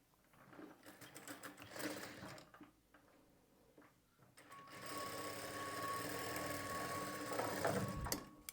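A sewing machine stitches blouse fabric while fitting the side seams, with a few soft handling noises before it settles into a steady, close, continuous whir for the last few seconds.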